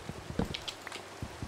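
Rain falls in the Minecraft video game as a soft, steady patter of drops, faint and even, with no voices.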